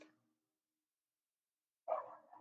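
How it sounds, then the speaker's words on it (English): A dog gives a short bark, fairly close, that breaks a long stretch of quiet indoors, with no one talking. "My dog was barking."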